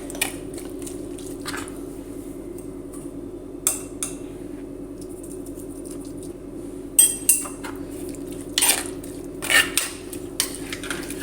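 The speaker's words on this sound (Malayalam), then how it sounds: "ഇനി നന്നായിട്ട് മിക്സ് ചെയ്യുക" A spoon stirs tamarind water into a simmering curry in a pot, giving soft wet squishes and scattered clinks of metal against the pot over a steady low hum, with no talk.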